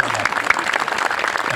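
Audience clapping at a Hindi poetry recital, a dense steady patter of many hands close by, mixed with crowd noise throughout.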